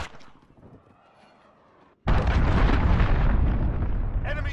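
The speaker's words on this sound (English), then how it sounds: "Enemy cruise missile incoming." A cruise missile blast in Call of Duty Modern Warfare, a sudden loud, heavy boom after two seconds of near quiet, then a dense roaring rumble that stays loud and sustained to the end.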